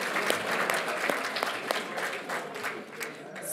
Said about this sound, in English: We have another round of applause, please